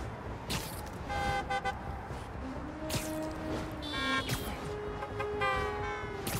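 Car horns honk repeatedly in the city streets of the video game Spider-Man 2, with several short and sustained toots from nearby vehicles over steady traffic noise.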